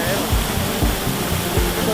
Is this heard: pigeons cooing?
no